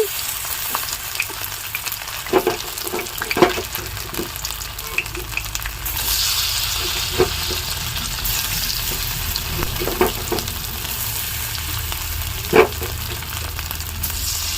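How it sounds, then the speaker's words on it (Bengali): Batter-dipped paneer pieces drop into hot oil in a wok, raising a steady loud sizzle broken by occasional sharp clinks of a utensil against the pan. "আমি সেই ব্যাটারে ডুবিয়ে ডুবিয়ে পনিরগুলো দিয়ে দিচ্ছি কড়াইয়ে"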